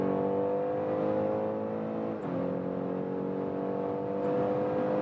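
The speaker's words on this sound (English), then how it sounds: "So in the sports mode, we also have, due to this sound actuator, a nice sound on the interior and good acceleration here" A BMW SUV in sports mode pulls hard from inside the cabin, its engine a steady, rising drone with one brief dip at a gear change before it climbs again.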